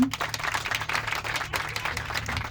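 A crowd at a company's 10th anniversary party in Turkey applauds with steady, dense clapping that holds for a couple of seconds at moderate volume, with no voices on top.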